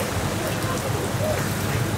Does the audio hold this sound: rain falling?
yes